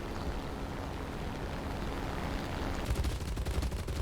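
Cannon fire from a BF-109 E-3 fighter in the War Thunder video game comes through as a rumbling wash of engine and gunfire, with a rapid burst of hammering shots near the end.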